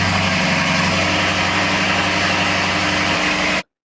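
A steady Lamborghini Urus engine idling with a constant low rumble and hum, close and loud, cutting off abruptly at the end.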